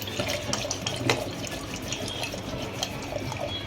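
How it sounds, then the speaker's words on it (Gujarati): Water is poured from a glass into a pot of spiced buttermilk (masala chaas) in a home kitchen, a steady close splashing pour running the whole time with no talk. "હવે આમાં દોઢ ગ્લાસ જેટલું મેં પાણી નાખ્યું છે"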